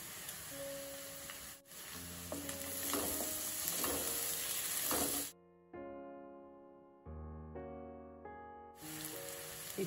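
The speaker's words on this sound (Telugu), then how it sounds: "ఉల్లిపాయలు వేగిన తర్వాత క్యాప్సికం వేసుకోవాలి" Chopped onions and capsicum frying for pav bhaji, a steady, close sizzle with stirring scrapes, broken midway by a stretch of tonal music before the frying noise returns.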